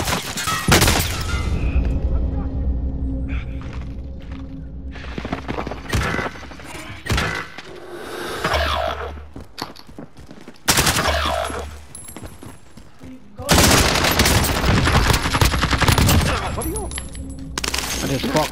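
Gunfire in Call of Duty Modern Warfare Warzone trios, with loud bursts of automatic fire in several long stretches, close and heavy, broken by quieter gaps, with players talking at times.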